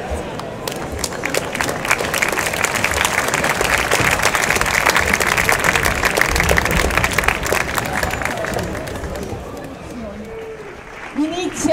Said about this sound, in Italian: Un grande grande applauso